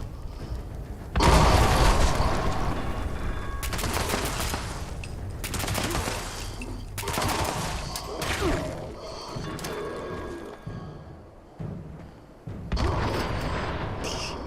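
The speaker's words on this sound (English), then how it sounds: "That'll be my last nuclear grenade, or nuclear quantum grenade anyway." A nuclear quantum grenade detonates in Fallout 76 amid a gunfight with many hostiles, a loud booming blast followed by sustained bursts of gunfire and repeated thuds over several seconds, with no talking.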